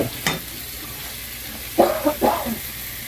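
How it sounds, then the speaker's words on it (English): Potatoes being mashed with butter using a masher in a pot, a few soft squelching and scraping strokes over a steady kitchen background hiss. "Get your masher. Go a little bit with that butter."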